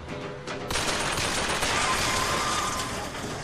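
Video game gunfire bursts dense and loud, starting as a sharp onset under half a second in and then sustaining rapid, overlapping shots that fill the rest of the stretch with no talking.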